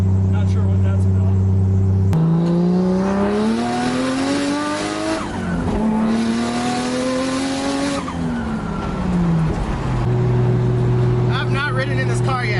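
A Nissan S13 car engine runs rough with uneven fueling, droning at idle and then revving up and down in rising and falling sweeps before settling back to idle, loud and close, with voices faintly underneath.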